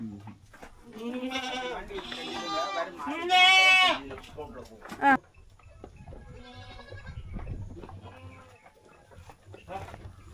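Goats bleating repeatedly close by at a traditional village shepherd's flock, loud harmonic cries in the first half giving way to quieter calls, with someone talking in between.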